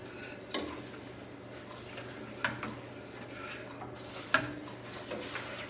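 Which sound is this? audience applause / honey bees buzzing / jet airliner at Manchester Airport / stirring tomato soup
stirring tomato soup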